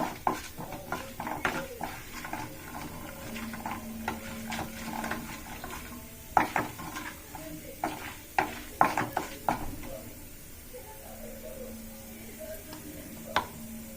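Fenugreek leaves frying in a pan for tomato curry, giving a soft sizzle with scattered clinks and stirring scrapes at close range, fairly quiet throughout.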